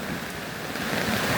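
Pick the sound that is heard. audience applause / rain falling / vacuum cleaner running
rain falling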